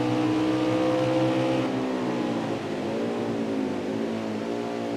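Race car engine heard on board the Valvoline Toyota during an Xfinity race at Mid-Ohio, a loud, steady high-revving roar with a shift in pitch midway, close and continuous with no talk.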